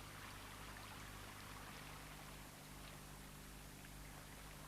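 Flowing water of a stream carrying sediment gives a faint, continuous rushing wash with no break and no voices.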